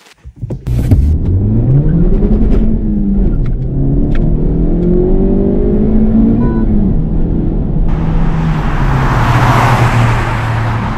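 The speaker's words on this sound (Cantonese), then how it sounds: "我揸緊嘅係本田思域 Type R FL5。" A Honda Civic Type R FL5 pulls hard along a country road, its engine note rising and falling through the revs, loud and close, with a burst of rushing wind and road noise near the end.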